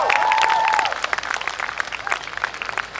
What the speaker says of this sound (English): Let's give them a round of applause for this courageous effort.